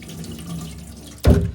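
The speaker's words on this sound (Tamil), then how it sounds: "அரிசியை முறை இப்படி கழுவணும்" Raw rice is washed in water at a home kitchen cooking over a wood stove, a soft trickle followed by a sudden loud splash and sloshing near the end.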